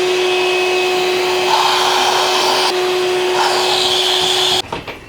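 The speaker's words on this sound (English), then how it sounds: "Let's vacuum out the thermostat housing." A vacuum cleaner hums steadily with a strong whine while sucking debris out of an old 1970 engine's thermostat housing, the tone shifting slightly as the nozzle moves, then cutting off abruptly near the end.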